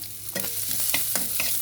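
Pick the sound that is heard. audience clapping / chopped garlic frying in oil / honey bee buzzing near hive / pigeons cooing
chopped garlic frying in oil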